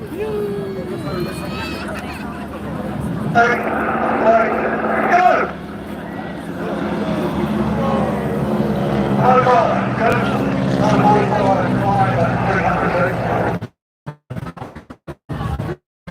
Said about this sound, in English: Now when the aircraft will move out to the left and right, they're going to reposition.